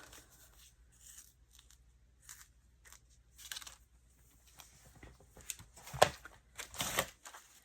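Scissors snip through tissue paper up close, a series of quiet, irregular crisp cuts and rustles, with a louder crinkling burst near the end.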